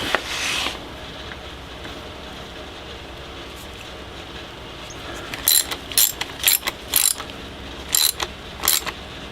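A ratchet tightens a nut on an office chair armrest: a quiet grinding at first, then bursts of sharp ratchet clicking in quick repeated strokes, close up and without speech.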